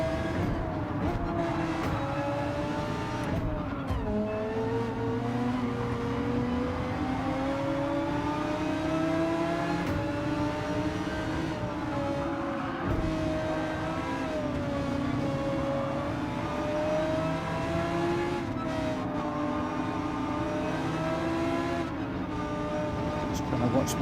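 An Audi R8 Evo race car in Gran Turismo 7 racing at Suzuka, a continuous droning engine note rising and falling through gear changes, with other cars nearby and someone talking over it throughout.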